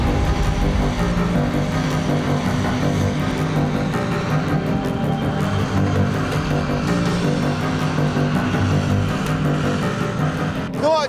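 A PMM-2M self-propelled amphibious ferry drives on land, its loud heavy engine roar and rumble steady and close throughout with no gaps, rising slightly near the end.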